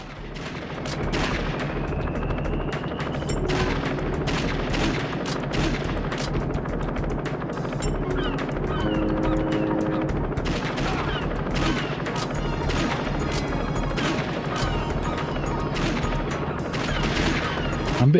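Rapid bursts of gunfire from the light-gun shooter Virtua Cop 2 on PS2 crackle continuously, with dense automatic shooting and explosive hits layered over a steady rumble throughout.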